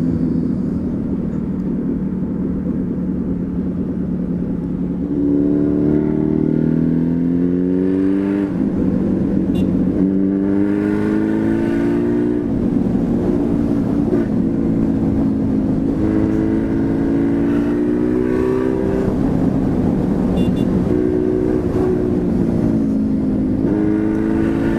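A Suzuki B-King motorcycle accelerates hard through its gears, its engine pitch rising in repeated sweeps and dropping at each shift under steady heavy wind roar. The sound is loud and continuous throughout.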